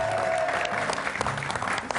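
Applause from a studio audience on an Algerian TV music show, a dense, steady roar of clapping from the crowd filling the whole moment at full strength.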